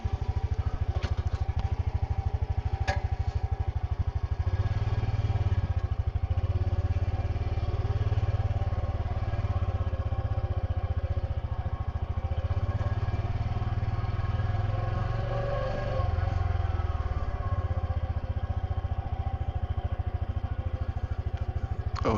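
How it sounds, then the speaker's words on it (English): A motorbike is ridden through rural Phitsanulok, Thailand, its engine giving a steady, close, low droning putter with slight rises and falls in pitch as it travels. "gonna haul back onto the motorbike and just drive over to the next spot"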